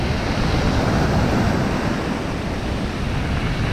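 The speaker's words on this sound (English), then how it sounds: "In the darkness, the waves are picking up, the wind's picking up." At night on the beach at Pevensey Bay, rough sea surf crashes and churns continuously under a strong east wind, forming a loud, dense roar with gusty microphone buffeting and no voices.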